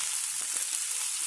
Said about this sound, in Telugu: ఇలా వేయించుకోవాలి.